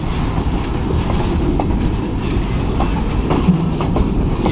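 A train rolls past on the rails close by, a loud continuous rumble with a steady clickety-clack of wheels across the joints and no talk heard.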